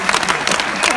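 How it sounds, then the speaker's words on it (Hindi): Crowd at a Hindi humorous poetry gathering (hasya kavi sammelan) bursts into loud, dense applause, a brief close burst of many hands clapping. "एक बार तालियां बजा दें दोस्तों"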